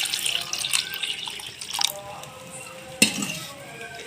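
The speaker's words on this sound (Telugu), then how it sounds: "మళ్ళీ ఇందులో కొంచెం వాటర్ పోసుకోవాలి ఫ్రెండ్స్" Water splashes and trickles into a pot while making tomato pepper rasam, with a sharp clink of metal partway through, close and moderately loud.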